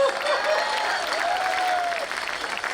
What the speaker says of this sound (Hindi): ताली कम थी